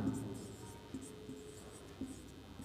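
Numbers being written by hand, apparently with chalk or marker on a board during a Hindi-language maths lesson on cube numbers: faint, soft scratching with a few light taps under a steady hum.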